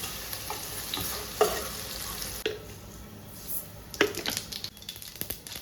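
Oil sizzles steadily in a pan as okra fries, while a utensil stirs and scrapes now and then, with soft clinks standing out over the frying hiss.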